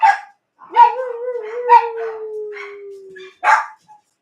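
A dog howls in one long, drawn-out tone, broken by several short yips and barks, close and fairly loud, with no talk over it.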